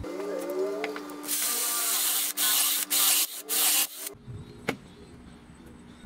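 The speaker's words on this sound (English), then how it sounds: "So now let's drill some holes." A drill bores holes into pallet wood, giving several loud bursts of gritty whirring separated by short pauses, and the sound cuts off abruptly near the end, leaving quieter room sound.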